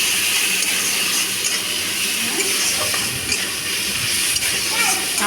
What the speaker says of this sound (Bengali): এবার পেঁয়াজ আর রসুনকে একসাথে ভালো করে ভেজে নিচ্ছি।